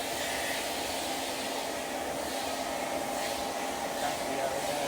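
A dog hair clipper with an attached vacuum runs as a steady, loud whirring drone throughout, with faint talk underneath.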